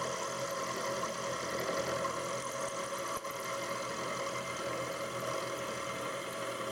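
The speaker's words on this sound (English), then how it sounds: "so you see the mill operating in a cutting function rather than gear cutting" A milling machine making a cutting pass on a loosely held workpiece, a steady, dense whir of motor and cutter running on without a break, with one brief dip midway; no talk.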